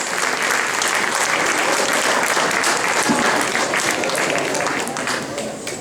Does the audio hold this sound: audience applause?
yes